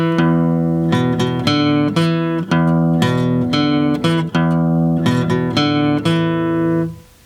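Acoustic guitar plays a riff in E, a bouncy repeating pattern of plucked notes and bass strums in a steady rhythm, loud and close, alone with no talking, ending on a ringing final note.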